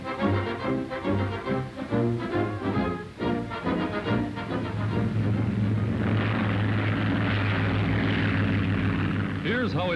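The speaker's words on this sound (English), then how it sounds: "A rope is rigged for the oncoming plane to catch." A World War II propeller airplane flies in low to snatch a glider's tow rope during a 1942 Army Signal Corps experiment, its engine drone rising to a steady roar under a narrator's voice and newsreel music.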